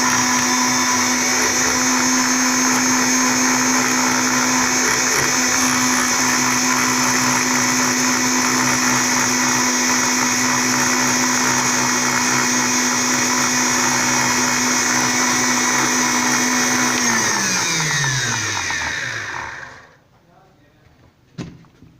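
A blender whirs steadily and loudly while mixing a fresh mint margarita drink, a constant motor hum that holds for about eighteen seconds, then winds down in pitch and cuts off, leaving near silence.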